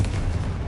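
Confringo blasting spell cast in the video game Hogwarts Legacy, a brief dense rumbling boom with heavy low-end thump, loud and sustained for under a second.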